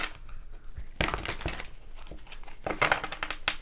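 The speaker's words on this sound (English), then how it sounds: "Let's do some shuffling." Crisp papery riffling and crinkling in several bursts as a deck of tarot cards is shuffled close by, with no voices.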